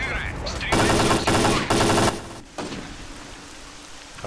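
Automatic weapon fire in S.T.A.L.K.E.R. Clear Sky, several loud rapid bursts over about a second and a half, then a lower rumbling ambience with a softer distant shot.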